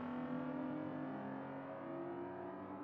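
Race cars at Mugello in a racing video game scream past in a sustained, steady high-pitched engine whine, loud and continuous with no talk over it.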